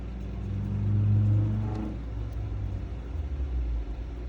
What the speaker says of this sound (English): besides the motorcycle that just went by